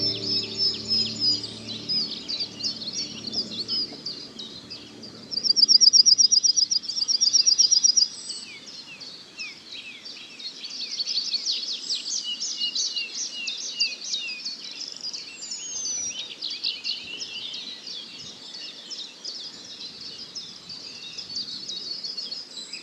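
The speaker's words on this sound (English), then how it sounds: "Amongst the yellowhammers, linnets and chiffchaff song, I could just make out a tree pipit." Yellowhammer, linnet, chiffchaff and tree pipit singing outdoors, a thin layer of high chirps and trills with one louder burst of song partway through, over a quiet background hiss.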